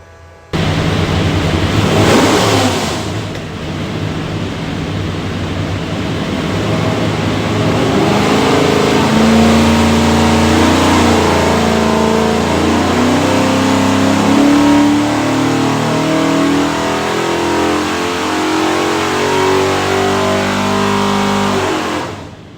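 Ford 427 V8 with hydraulic roller cam and rear-sump oil pan, for a '56 Ford Fairlane, revving on an engine dyno in a shop, loud and close, climbing steadily through a long sustained pull before dropping off.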